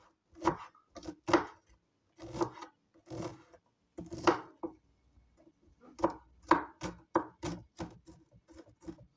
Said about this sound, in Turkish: Öncelikle şöyle soğanlarımı bir doğrayalım.